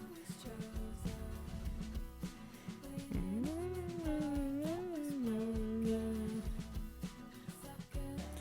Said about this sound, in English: like a synth, but it sounds like this nice little like Peter Pan flute